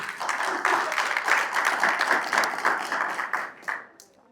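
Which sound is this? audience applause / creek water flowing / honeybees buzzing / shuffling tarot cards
audience applause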